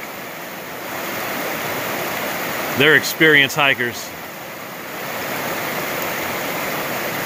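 A cold mountain stream on the Appalachian Trail rushes in a steady, broad wash of water, with a brief spoken remark from someone nearby partway through.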